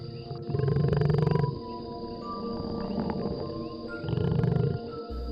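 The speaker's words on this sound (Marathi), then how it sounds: "क्वचितच दूर कुठेतरी रानात निनादलेली बिबट्याची डरकाळी सुद्धा ऐकू येई" A leopard roars somewhere in distant forest at night, two long rumbling calls a few seconds apart, fairly faint and far off, over a steady background of chirping crickets and other insects.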